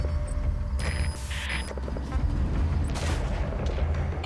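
Gunfire and explosive booms from Metal Gear Solid V: The Phantom Pain, a dense barrage of shots and blasts layered over a rumbling engine-like bed, loud and continuous with sharp bursts throughout.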